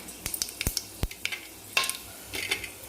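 Cardamom pods, cloves and peppercorns dropped into hot oil for a tadka, with light crackles, pops and stirring clinks scattered over a quiet sizzle.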